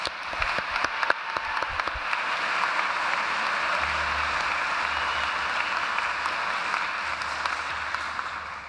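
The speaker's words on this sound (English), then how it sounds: "If you could give them a clap, please." A graduation ceremony audience in a hall applauds the Dickson College Jazz Band with steady, dense clapping. The applause holds for several seconds at an even level, with a few sharper claps standing out near the start.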